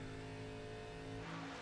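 A pack of stock race cars sweeps past at Daytona in a sim racing game, engines droning loudly and continuously with a rising roar as the field goes by. Nobody talks.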